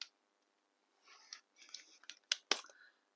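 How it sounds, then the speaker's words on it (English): Scissors snipping open a Rainbow Loom package, a few quiet, close crisp cuts and rustles in an otherwise silent room. "Don't use scissors the wrong way, guys."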